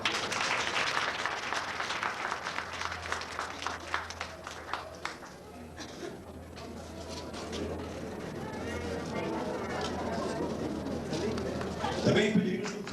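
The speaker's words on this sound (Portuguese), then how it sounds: "para quem eu peço uma salva de palmas" Round of applause from an audience at an inauguration ceremony honouring a professor with an honourable mention award, steady dense clapping filling the room for most of the span, with some voices mixed in.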